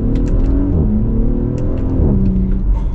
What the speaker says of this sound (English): when I do an acceleration, it's gonna make some farting noises